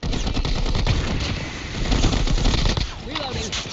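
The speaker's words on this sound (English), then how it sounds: "Using shotguns." Heavy, rapid gunfire in a COD Mobile battle royale match on Alcatraz, with sustained loud bursts of shotgun shots, a short lull, another burst, and a voice at the end.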